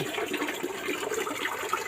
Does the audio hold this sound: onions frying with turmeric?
no